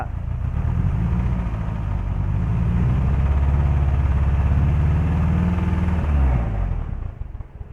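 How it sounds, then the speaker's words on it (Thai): A Toyota 1NZ car engine with an ignition misfire runs steadily and loudly throughout with an uneven, stumbling low rumble, then drops off near the end. "อาการเครื่องยนต์ติดไม่เต็มสูบครับ"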